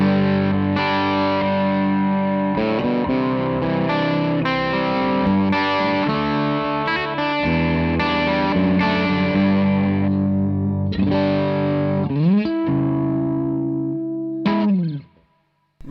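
Electric guitar chords played through the dirty, gain-boosted side of a guitar pedal on a pedalboard, sustained distorted strums ringing for several seconds each and ending with a pitch-bending flourish before cutting off.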